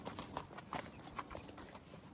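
Hoofbeats from a pack horse walking along a brushy trail, a steady quiet clip-clop of several soft steps at close range with rustling in the background.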